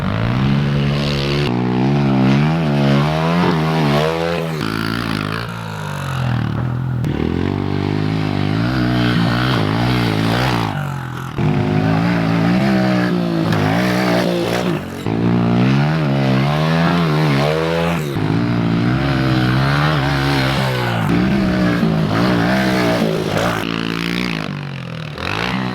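A Honda pit bike on stock suspension is ridden over a double jump, its small engine loud and close, revving up and down repeatedly with brief drops between bursts of throttle.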